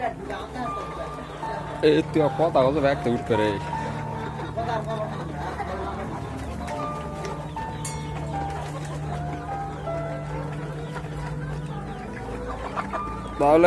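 Layer hens on a Bangladeshi poultry farm, many chickens clucking and squawking nearby in a continuous chorus while people talk over them.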